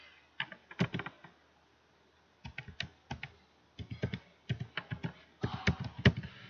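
Typing on a computer keyboard while writing in MS Word, bursts of quick close key clicks separated by short pauses, quiet overall.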